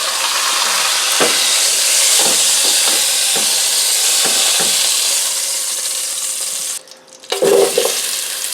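Vegetables sizzling loudly and steadily in a crock pot after a roast was browned, with a few stirring scrapes, a brief drop near the end and then a fresh burst of sizzle.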